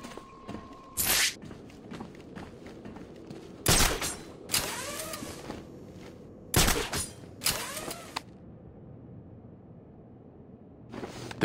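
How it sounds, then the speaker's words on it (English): Gunfire rings out in the Batman: Arkham City video game, with several loud, sharp shots and short bursts that trail into echoing tails, separated by quieter stretches. "The gunshot came from the bell tower."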